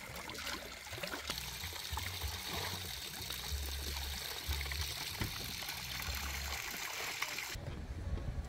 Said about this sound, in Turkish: Orijinal bir çeşme.